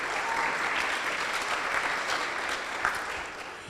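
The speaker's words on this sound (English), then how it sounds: "Her round of applause." An event audience breaks into applause, a dense, steady wash of clapping that holds at an even level throughout with no speech over it.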